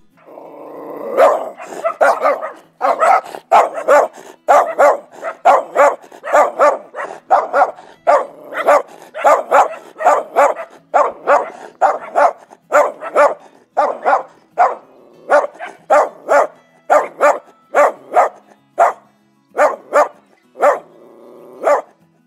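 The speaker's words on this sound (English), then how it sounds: "Furious dog barking with anger." Furious dog barking and growling, delivering loud close barks in an irregular rapid train, some clustered in pairs, with a rough growling edge between them and brief gaps throughout.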